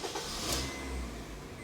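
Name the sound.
Honda Mobilio RS 2015 car engine starting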